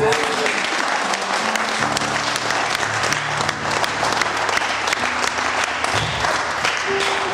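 A church congregation applauds steadily throughout, a dense, continuous clapping with crowd noise and faint voices and tones mixed in underneath.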